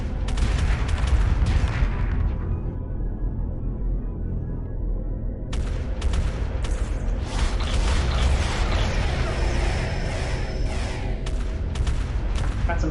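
Big, heavy turret cannons pound away during a space fleet battle in Homeworld Remastered, loud sustained barrages of blasts and rumbling booms with mechanical creaks, a brief lull partway through before the dense firing resumes.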